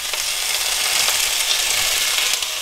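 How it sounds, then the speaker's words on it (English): Frozen vegetables sizzle in hot oil in a 12-inch skillet, giving a dense, steady hiss with faint crackles throughout. "Now we just add our vegetables,"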